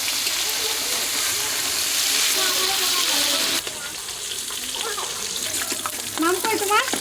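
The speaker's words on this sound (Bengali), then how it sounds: "এখন মাছগুলো ভেজে নেবো" Fish pieces, rubbed with salt and turmeric, fry in a pan with a continuous hissing sizzle. Midway the sizzle drops quieter, and high chirping sounds and soft voices come in.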